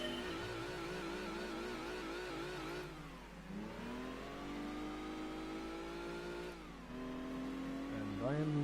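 A BMW 5 Series race car engine in Gran Turismo 2 revs up through the gears, climbing steadily with distinct drops at each shift, loud and continuous.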